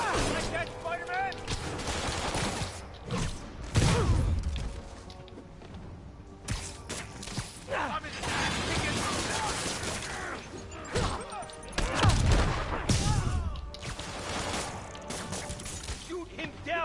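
Gunfire from enemies in the Marvel's Spider-Man video game, with bursts of shots and impacts in a busy combat mix that swells loudly around several moments, with voices talking throughout.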